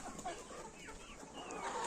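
Hens feeding on wheat grain in a farmyard cluck softly and steadily, several birds overlapping at close range under a constant outdoor background.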